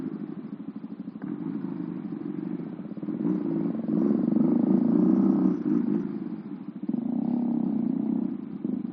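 A modified Honda Astrea Prima motorcycle fitted with a two-cylinder engine revs steadily up close, its low throbbing note rising in the middle of the clip and then settling, with no talking over it.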